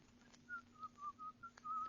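Someone whistles a short, quiet tune of several soft notes, "Turkey in the Straw", alone and fairly faint, in an old-time radio show.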